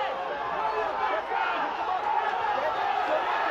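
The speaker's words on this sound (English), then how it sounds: "Listen to the crowd." Loud, dense roar of a packed cage-fighting crowd cheering and yelling without pause, a steady wall of voices under the action with no letup.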